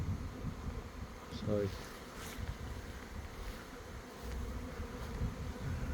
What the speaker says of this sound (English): Yeah, it's a big swarm. There is a lot coming around this tree now.